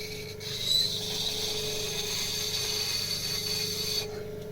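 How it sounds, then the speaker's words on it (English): A metal tool scrapes against a spinning pottery wheel head while shaping a clay candle holder, a steady gritty rasp over the wheel's continuous low motor hum. "Use any metal tool against a wheel head, it's going to scrape."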